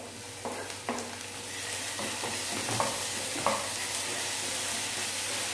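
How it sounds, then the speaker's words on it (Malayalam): Onions and tomatoes sauté in a pan for a Thattukada-style green peas egg masala, a steady close sizzle broken by a few light scrapes and stirs. "ഉള്ളി നന്നായിട്ടൊന്ന് വഴണ്ടി കഴിഞ്ഞ് കഴിഞ്ഞാൽ അതിലേക്ക് ഈ തക്കാളിയും കൂടി ഇടുക."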